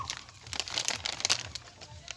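A parcel's wrapping is torn open and crumpled in a run of close crinkling rustles and sharp tearing bursts, loud and busy, with no voices over it.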